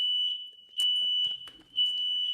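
Shrill, continuous smoke alarm tones repeat in long pulses with brief dips, loud and close in a room, while a few short knocks and scraping noises sound between them.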